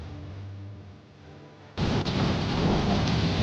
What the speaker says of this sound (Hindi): बिजली खड़क रही है।